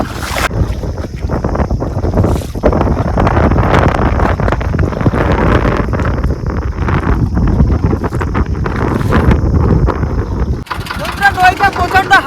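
Strong wind buffets the microphone on the Matla river in the Sundarbans, with a boat engine rumbling underneath and people talking over it. The gusts roar continuously before a sudden cut to quieter rhythmic sounds near the end.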